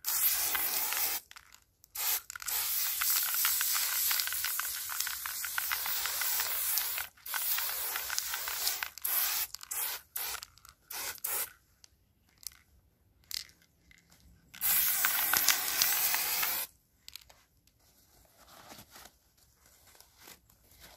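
Bursts of spray hiss from a can onto a damaged ivy basket, several separate blasts of a few seconds each broken by short silences, close and fairly loud.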